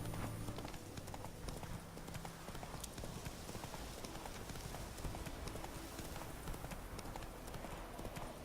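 Roach the horse from The Witcher 3 gallops with steady, dense clip-clop hoofbeats that run continuously throughout at a constant, moderately loud level, with no talk over them.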